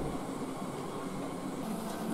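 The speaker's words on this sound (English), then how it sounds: "This train originating from Colwick, hauled by a 9F, built from a DJH kit." Model 9F steam locomotive built from a DJH kit, hauling a mineral train on a model railway layout, giving a steady continuous rolling rumble with no break or talk.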